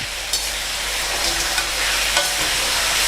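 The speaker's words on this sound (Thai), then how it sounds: "ใส่ลงไปแล้วผัดให้เข้ากัน" Pieces of fried sea bass being stir-fried in a hot pan with seasoning, a continuous bright sizzle with light scraping of the spatula, steady and close throughout, no voices.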